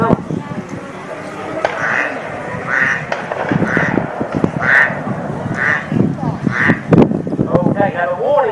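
A man vocally imitates a male mallard drake, producing a series of evenly spaced, nasal, raspy quacks about once per second, loud and close, with a few honking bursts near the end.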